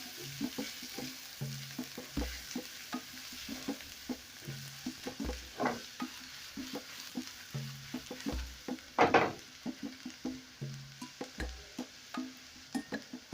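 Garlic and onions stir-fried in a pan for vegetable fried rice made from leftover rice, a quiet sizzle under rhythmic spatula scrapes and taps repeating every second or so, with one louder clatter midway.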